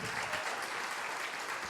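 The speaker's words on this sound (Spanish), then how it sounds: "Den un fuerte aplauso al Señor." Congregation applauding the Lord during a church sermon, a steady wash of many hands clapping at moderate volume with no voices above it.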